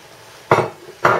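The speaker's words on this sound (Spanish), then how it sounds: "removeremos bien la pasta con el caldo para que empape bien el cuscús" Couscous pasta is stirred into hot broth in a pot, giving two sharp metallic clinks and scrapes of a utensil against the pot, close and distinct.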